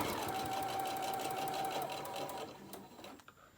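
A sewing machine stitches a chicken pincushion in a fast, steady mechanical run of needle beats that slows and stops near the end, close and clear.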